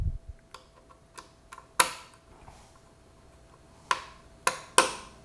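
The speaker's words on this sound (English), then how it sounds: "we're going to turn backwards and see if we can hear that thread click" An MSI X399 SLI Plus motherboard's Threadripper socket screw is turned backwards and clicks over its thread, giving a handful of sharp, close ticks at irregular intervals against quiet handling noise.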